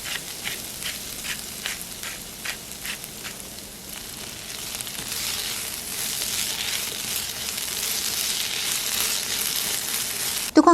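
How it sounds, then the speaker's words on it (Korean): Potatoes and onions stir-fried together in a pan, seasoned with salt and pepper, sizzle steadily and close by, with a few rhythmic scraping stirs early on before the frying hiss thickens and holds. "양파의 향이 올라오면 감자를 넣어 함께 볶으세요"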